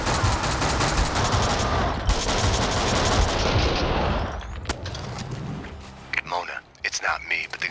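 Gunfire in the video game Max Payne 2 rattles as a dense, loud burst of rapid shots for about four seconds, then stops as someone talks over quieter game sounds.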